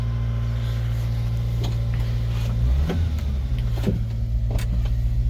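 Subaru Sambar mini truck pulling forward slowly in first gear, a steady low engine drone with a brief swell near the middle and a few light clunks, close by with no talk.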